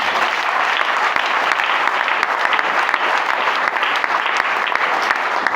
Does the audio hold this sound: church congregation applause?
yes